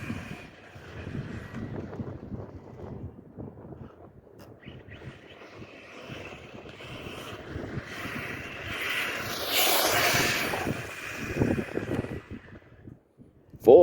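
A Team Corally Shogun XP 6S RC car runs at full throttle on a speed pass, a steady high-pitched electric motor whine building toward a louder peak as it nears and passes, with no talk.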